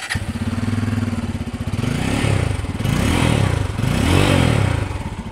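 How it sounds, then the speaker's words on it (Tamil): A 2022 Bajaj Pulsar F250 motorcycle's exhaust revs up three times in rising, swelling bursts, settling back toward a throbbing idle between them; the engine is loud and close, with no talk. "ஸோ F250யோட எக்ஸாஸ்ட் சவுண்டு கேட்டிருக்கீங்க"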